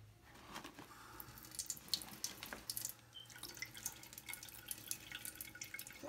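Water running from a bathroom tap into a sink while a child washes her face, faint trickling and dripping with small splashes, steady and close, no talk over it.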